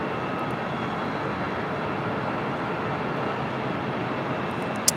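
A JetBlue Airbus A320 landing at LAX on a flight in from Las Vegas, heard as a steady, broad jet roar that holds at a constant level throughout with no voices over it.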